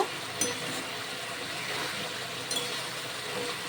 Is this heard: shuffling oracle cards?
no